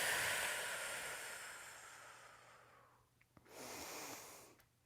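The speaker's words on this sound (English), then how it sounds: "5 nice big deep breaths in" Slow, deep breaths during a held yoga warrior 1 pose, a long airy exhale fading over about three seconds, then a brief pause and another breath drawn in, close and soft with no talking.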